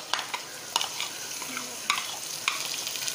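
Garlic is stirred into softened onions frying over medium heat for spicy chickpeas, making a continuous close sizzle with a few sharp spoon scrapes against the pan.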